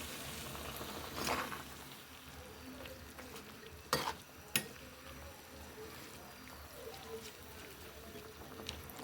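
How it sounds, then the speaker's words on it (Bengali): Potatoes and greens are stirred in a cooking pan over a faint, quiet sizzle. A couple of distinct scrapes and knocks of the utensil stand out against low kitchen background noise. "যে আলু আর শাকটা আমি এখন দিয়ে দিচ্ছি। আমি নাড়াচাড়া দিয়ে দিচ্ছি।"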